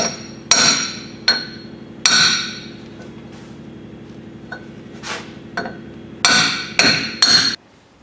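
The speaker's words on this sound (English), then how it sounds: "so I can bang it on there without damaging it." Hammer blows knocking a front crankshaft seal with a garter spring onto a 2004 Ford F-350 6.0L diesel engine, sharp metallic strikes in irregular bursts, some single and some in quick triple groups, close and loud over a steady low hum.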